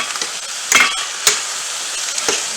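Pork, pepper, zucchini and macaroni sizzling in a pan while being stirred, a steady close hiss of frying broken by a few sharp scraping and clinking strokes of the utensil.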